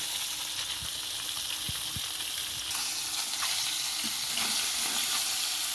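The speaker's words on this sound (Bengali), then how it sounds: "তো এদিকে মাছগুলো এখন ভাজা চলছে" Fish fry in a pan with a steady, bright sizzle and hiss, and a few soft knocks of a utensil at the pan come through now and then.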